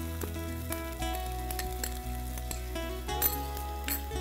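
Onion, ginger, garlic and green chili sizzle in hot oil for a corn mushroom burji, a continuous crackle with occasional utensil clinks over a steady tonal background, and no one speaking.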